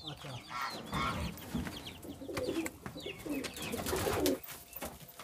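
Pigeons in a loft, several birds cooing and burbling close by in overlapping, throaty calls, with faint voices in the background.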